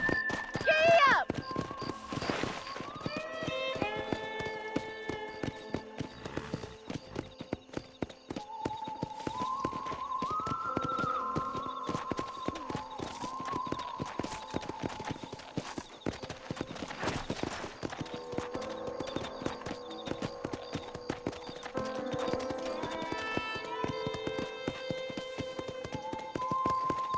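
A horse gallops in Red Dead Redemption, rapid rhythmic hoofbeats running throughout under background music and occasional talk.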